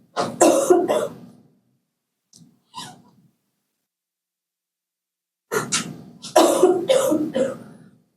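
Coughing fits from a lecturer in a talk setting: a burst of several harsh coughs, a couple of faint isolated coughs, then another longer run of coughs, close and fairly loud with silence between.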